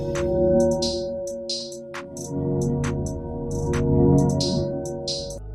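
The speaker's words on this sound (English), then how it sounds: "what this plugin is doing is it degrades the quality of the audio. It basically reduces the bitrate" A drum beat run through a bitrate-reducing degradation plugin plays alone: sustained tonal layers under repeated crunchy, smeared hits and hissy high bursts in a loose, wobbling rhythm, with no talk.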